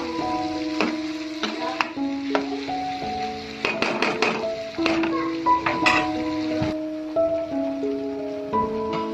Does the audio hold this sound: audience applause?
no